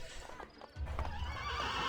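Horse in Assassin's Creed Brotherhood gives a loud whinny, then hooves clop steadily and close for the rest of the moment, with no voices over it.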